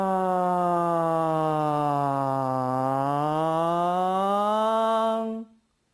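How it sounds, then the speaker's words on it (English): A single synthetic tone, strong and clear, sweeping smoothly downward and then back up in pitch over about five seconds before cutting off, heard alone with no speech. "go from right to left with a descending, ascending tone"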